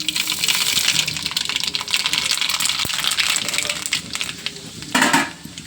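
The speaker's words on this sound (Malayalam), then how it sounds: "എന്നിട്ട് നമുക്ക് കുറച്ച് കടുക് ചേർക്കാം" Mustard seeds sizzle and crackle loudly in hot oil in a pan, a dense frying hiss that continues throughout and swells briefly near the end.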